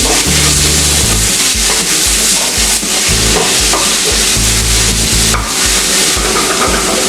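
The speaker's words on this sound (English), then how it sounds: "Add in the chopped tomatoes and saute them well." Chopped tomatoes sauté with masala in a pan for an Indian crab dish, a loud close sizzle with steady stirring and scraping strokes running throughout.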